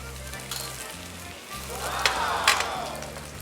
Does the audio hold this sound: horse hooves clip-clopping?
no